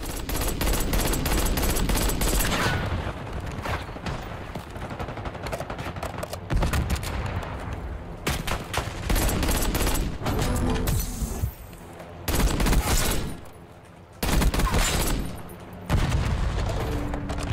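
AEK assault rifle in Call of Duty Black Ops 6, set to a high fire rate, rattles out loud, dense automatic bursts with brief pauses between strings of shots, close and continuous throughout.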